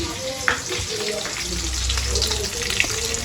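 Fish frying in a pan in a home kitchen, a steady hissing sizzle running underneath throughout, with light clinks and some background voices.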